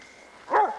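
A dog lets out a single sharp bark at a moderate distance outdoors in winter snow, against quiet background hiss.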